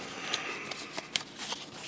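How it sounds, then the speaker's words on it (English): Unsleeved blue mission cards for the air-combat board game A Wing and a Prayer are shuffled by hand: a close, steady riffle of crisp papery flicks with a few sharper snaps, alone without talk. "Next, shuffle the blue undamaged mission cards and place them face down on the mission deck."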